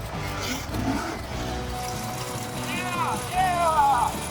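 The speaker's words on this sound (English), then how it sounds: "past the roaring drift circuit" Engines rev and roar from cars at the drift circuit at LS Fest West, a mid-pitched growl rising and falling with sharper surges near the end, heard from a distance while a person talks over it.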